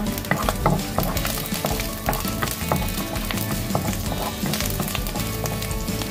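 Ginger frying in oil in a clean wok, a loud, steady close sizzle with stirring scrapes throughout, no voices.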